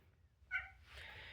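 A pet cat lets out a single short meow, faint and close, over quiet low room hum with no talk.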